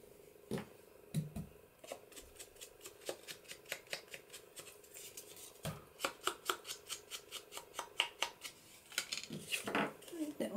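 Scissors snipping paper while trimming strips for hidden pocket paper clips, a series of crisp close cuts in quick irregular bursts, with faint handling rustle between.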